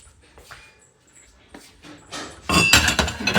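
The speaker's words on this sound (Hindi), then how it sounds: "ये जो फ्रिज के बर्तन हैं, ये जो लगे हुए रहते हैं इनको धो लेती हूँ" Fridge dishes and containers clink and clatter while being washed, light scattered knocks at first, then a loud, dense run of rattling and running-water noise close by.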